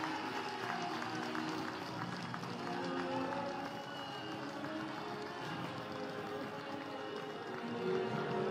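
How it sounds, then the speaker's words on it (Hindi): A crowd at Union Minister Nitin Gadkari's foundation stone ceremony for a road in Siliguri applauds, making a faint, distant, continuous wash of clapping and crowd noise. "एक बार जोरदार तालियां हो जाए।"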